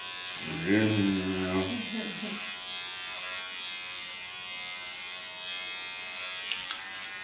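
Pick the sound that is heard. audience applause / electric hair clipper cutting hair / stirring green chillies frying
electric hair clipper cutting hair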